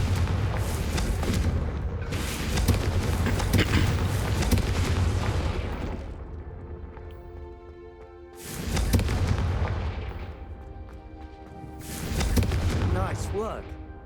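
The Confringo blasting spell explodes in Hogwarts Legacy: a sustained roaring boom that fades, then two more heavy bursts rumble and trail off, loud and close over game music and ambience.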